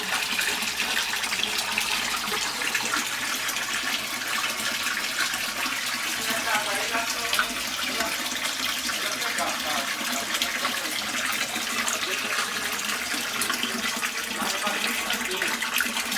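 Water churns and sloshes steadily inside a GE EcoPerformance 15 kg washing machine, a dense, continuous wash at moderate volume that runs the whole time without pause.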